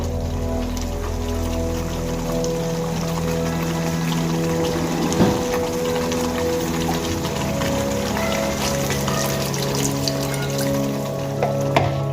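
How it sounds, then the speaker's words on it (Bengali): Water poured into a pan of cooking pointed gourd (potol) hissing and sizzling steadily, a continuous bubbling fry sound close up with a faint kitchen hum underneath. "আমি আরো কিছুটা জল এর মধ্যে অ্যাড করব।"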